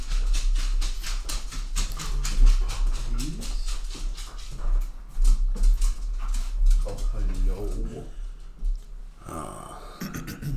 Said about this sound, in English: I'm gonna let the dogs in.